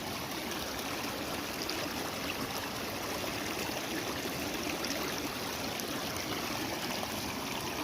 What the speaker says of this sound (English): We got some good flow coming down through here.